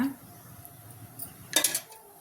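A metal pan clatters down onto a kitchen stove, a short cluster of bright clanks close by, followed by quiet room tone with no talking.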